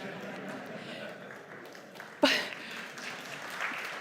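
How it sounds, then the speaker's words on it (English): Audience applause, a steady wash of many hands clapping with a sharp burst partway through, moderately loud and sustained. "I didn't ever expect to get a round of applause for that."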